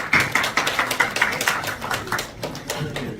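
Audience applause at a foundation launch ceremony: a steady run of close, sharp hand claps from a small crowd, fairly loud and tapering slightly toward the end.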